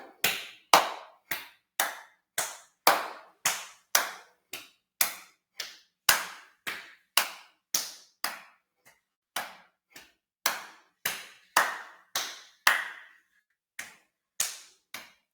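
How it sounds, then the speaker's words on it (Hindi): During a yoga session, a person claps in front and then behind the body, making about two dozen sharp, evenly spaced claps in a steady rhythm, close and alone with no talking. "चलिए थोड़ी आगे पीछे ताली बजा ले।"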